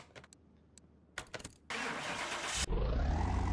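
A 2016 Porsche Carrera 4S in a video game clicks and chimes, then its engine cranks and catches with a sharp, loud roar before settling into a deep, rumbling idle; no one speaks.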